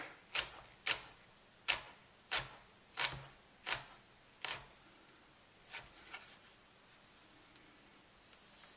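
A knife roughly chops garlic on a cutting board, making about seven crisp, evenly spaced taps that come close and clear, then a few fainter, looser strokes before it stops.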